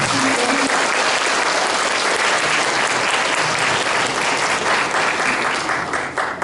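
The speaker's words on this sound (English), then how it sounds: "Please give her a round of applause" Loud, sustained applause from a large crowd at a VietFest press conference, dense steady clapping for several seconds that thins slightly at the end.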